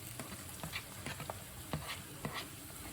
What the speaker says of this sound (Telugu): ఇది కూడా మంచిగా లో ఫ్లేమ్లో కొద్దిగా మగ్గనివ్వాలి.